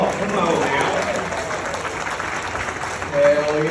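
A comedy club audience at Bricktown Comedy Club in Tulsa applauds the host with a steady, dense wash of clapping, while a voice talks over it and a cheer swells near the end.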